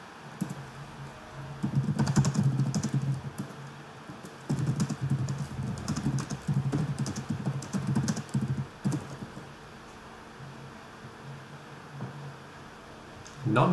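Computer keyboard typing during an online game match, a rapid run of clicky keystrokes in busy bursts that stop and start, heard close and fairly loud, mixed with a voice talking.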